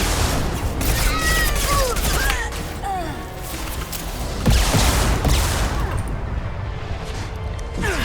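Turret gunfire in Mass Effect 2 pounds out rapid, continuous volleys layered with booms and sweeping whines, loud and dense throughout before easing slightly near the end.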